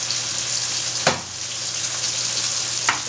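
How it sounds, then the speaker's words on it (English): Tomatoes sizzling hard in hot oil in a pot while cooking lobster bisque, a loud continuous close hiss broken by a couple of brief stirring scrapes. "You hear that sound? It means the tomatoes are releasing all their liquid and mixing with the oil."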